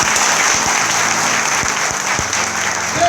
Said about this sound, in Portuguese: Aplauda o nome do Senhor Jesus com vontade